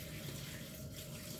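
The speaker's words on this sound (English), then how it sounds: "you just wash the shrimp out with clean water" Water runs steadily as shrimp are rinsed in clean water in a strainer for ceviche, a continuous close gush of tap water.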